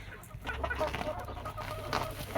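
Small silkie chickens, young roosters among them, cluck softly and intermittently in a backyard coop, the calls faint over a low steady background hum.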